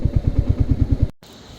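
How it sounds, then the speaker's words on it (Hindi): A motorcycle engine thumps in a steady, loud, close rhythm as the bike pulls into a parking area near Kalpeshwar Temple in Uttarakhand, then cuts off abruptly. "तो भाई यहाँ तक तो अपनी बाइक आ गई है"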